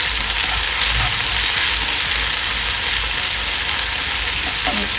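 Ginger garlic paste fries in hot oil with curry leaves while the stuffing for stuffed squid is cooked, giving a steady, dense sizzle with occasional stirring, close and loud, with no talking.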